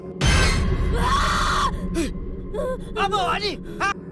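A woman screams in fright, a loud burst followed by gasping, whimpering cries and high wavering wails, with dramatic sound underneath.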